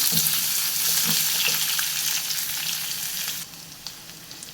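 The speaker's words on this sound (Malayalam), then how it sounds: "നമുക്ക് ഈ അരിഞ്ഞു വെച്ചിരിക്കുന്ന പൊട്ടറ്റോയും കൂടെ ചേർത്ത് കൊടുക്കാം. നല്ലോണം ഇളക്കി നമുക്ക് ഇതൊന്ന് വഴറ്റിയെടുക്കണം" Diced potatoes sauté in a pan with a close, steady sizzle and occasional stirring scrapes. The sizzle drops noticeably quieter partway through.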